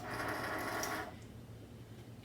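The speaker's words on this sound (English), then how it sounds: "slide the Cricut over. We're gonna set it in and we're gonna press the load button" A Cricut cutting machine whirs briefly as it loads the mat, a soft mechanical motor hum that runs for about a second and then stops, leaving quiet room noise.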